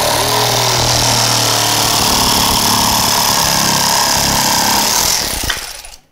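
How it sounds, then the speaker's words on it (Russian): A jigsaw from a 3-in-1 Luxtool tool set cuts a curved shape through thick wood, a loud steady buzzing drone for about five seconds before it winds down and stops. "Мы режем ее при помощи лобзика."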